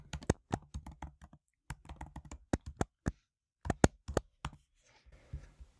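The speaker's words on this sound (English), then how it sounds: "So I'm going to type that in." Close computer keyboard typing in quick bursts of crisp keystrokes, broken by short pauses and one longer gap, with no voices.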